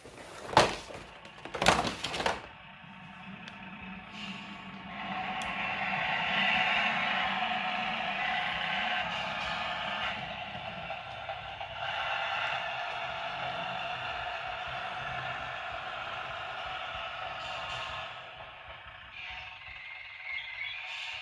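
Bachmann Class 101 DMU model train with fitted sound decoder braking: two sharp clattering knocks open, then a long steady hissing squeal of brakes with low rumble underneath, close and moderate.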